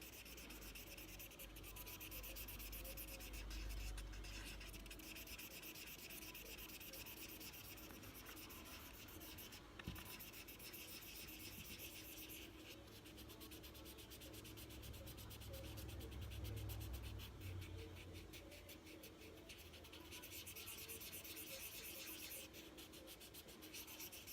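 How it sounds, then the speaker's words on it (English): Continuous rhythmic rubbing and scraping of wet sandpaper on a metal Glock trigger guard, back-and-forth strokes repeating steadily for a long stretch, close and fairly quiet. "And the wet sanding helps keep it from clumping up on the surface."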